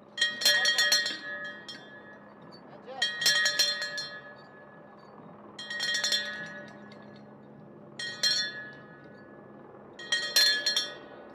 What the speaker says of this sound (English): Those were some enthusiastic bell rings right there.